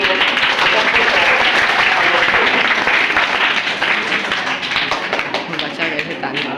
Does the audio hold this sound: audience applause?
yes